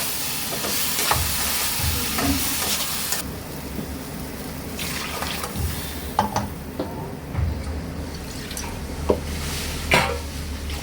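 Mustard paste made from white mustard seeds frying in a pan with eggplant, a continuous hissing sizzle with intermittent clatters and scraping knocks, fairly close.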